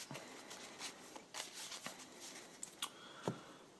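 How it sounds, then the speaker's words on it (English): Yu-Gi-Oh trading cards shuffled by hand as a deck, quiet and close, with a rapid run of soft riffling clicks and slaps in uneven bursts. "shuffle our deck."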